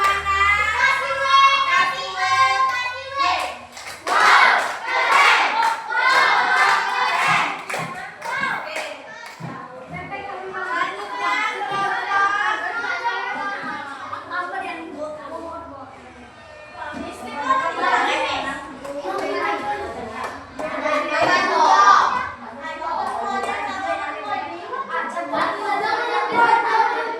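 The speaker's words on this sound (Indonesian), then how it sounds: "Tepuk tangan dulu." Children in a classroom clapping their hands, with bursts of quick, overlapping claps and lively kids' voices and talk throughout, close and fairly loud.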